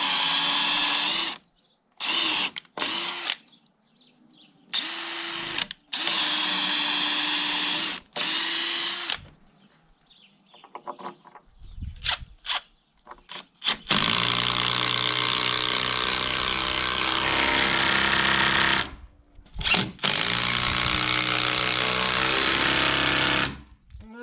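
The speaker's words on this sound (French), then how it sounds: "je vais faire un pré-trou à 8 sur, sur celle du haut et celle du bas elle va percer directement avec la vis." A drill bores an 8 mm pilot hole and drives screws into timber framing, with long close whining runs that stop and restart, short ratcheting bursts, and a sustained final run.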